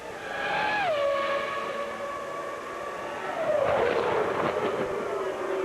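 A Formula 1 car braking during qualifying for the 1999 Canadian Grand Prix, loud and close. Its high engine scream steps down in pitch through quick downshifts, then a rougher burst of engine noise rises again.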